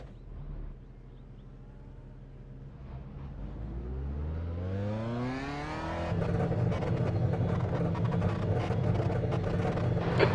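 A McLaren race car engine in a racing sim revs and climbs through the gears with rising harmonic sweeps, then holds a loud, steady high-revving roar, close and alone with no talk.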